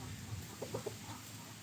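A young Pa Koi rooster, seven to eight months old, and chickens give three quick, short clucks in a row over steady outdoor background noise.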